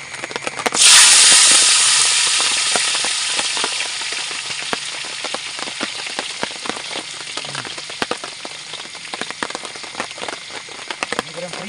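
Food fries in oil over a camping stove outdoors, starting with a loud sizzling burst that fades into steady crackling hiss, with sharp pops scattered throughout.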